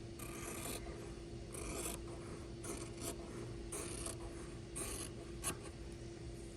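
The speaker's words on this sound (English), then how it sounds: "I'm gonna kind of turn my scissors a little sideways so you can see what I'm doing as I close my scissors." Scissors closing through fabric while cutting pieces for a sewing sampler project, giving repeated rasping snips at a steady rhythm, close and clear, with no talking.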